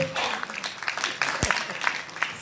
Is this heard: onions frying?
no